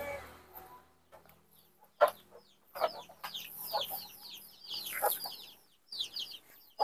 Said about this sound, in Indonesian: Ini ada ayam Sapo.